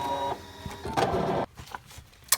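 A ScanNCut cutting machine cuts fabric with a buzzing, motorised whir of carriage moves, broken by brief stops and shifts in pitch, heard close and alone.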